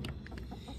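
Backyard hens cluck softly in a quick burst of short, close calls over a faint steady background.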